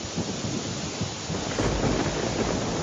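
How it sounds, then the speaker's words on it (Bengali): Heavy rain falls in a dense, steady hiss with a low rumble of thunder swelling underneath, loud and continuous, with no voices. "আহা, কি বৃষ্টি!"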